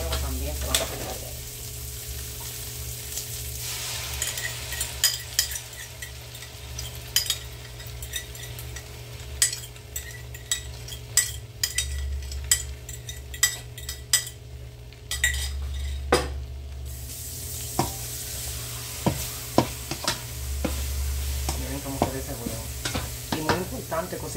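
Eggs and cheese cooking and being stirred in stainless steel frying pans: a steady low sizzle under frequent clinks and scrapes of utensils against metal, close up and continuous.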